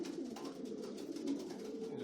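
Young racing pigeons cooing in a loft, overlapping soft throaty coos repeating in quick rhythm, close and moderately faint, with no talk.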